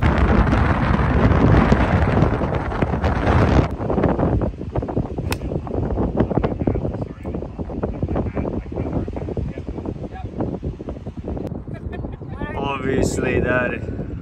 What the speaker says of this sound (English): it's started to get really, really windy